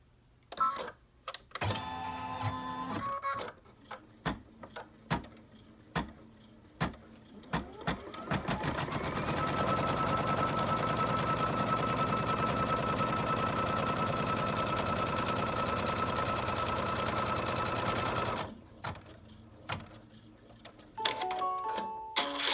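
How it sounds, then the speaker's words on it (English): An embroidery machine stitches out a placement line on a hooped frame, a steady, fast mechanical whirr running for about ten seconds at close range, with clicks and handling noises before and after. "I'm going to turn it on, and it's going to sew out the placement line for you here."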